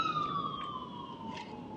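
An ambulance siren wails nearby on a road, a steady tone sliding slowly downward as it passes, moderately loud over a soft background hum with no talking.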